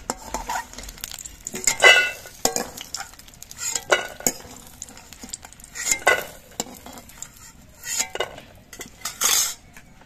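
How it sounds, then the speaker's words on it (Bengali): Metal utensils clink and scrape against a pan in bursts as fried lentil dumplings are scooped out, while a faint sizzle continues underneath, close and without speech. "এবার এই ডালের বড়িগুলো আমি নামিয়ে নিচ্ছি।"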